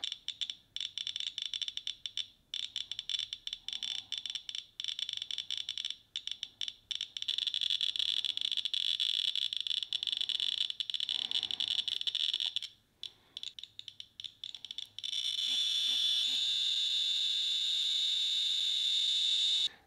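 A scintillation detector held up to americium buttons gives a dense, steady crackle of clicks with a loud, continuous tonal alarm that grows stronger and shriller in the final seconds, with no talking over it.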